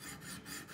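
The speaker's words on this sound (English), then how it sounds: "So I'm gonna start with a 400 grit. And then I just do some scrubbing like this, an up and down motion." Continuous raspy scrubbing of a knife blade up and down against a coarse 400 grit stone on a Wicked Edge sharpener, close and steady with rhythmic strokes, no voices.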